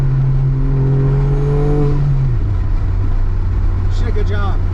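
A stock turbo Dodge Stealth with a 5-speed transmission accelerates on a test drive with a loud, steady engine drone inside the cabin. The engine pitch climbs and then drops at a gear shift, with a voice faintly present.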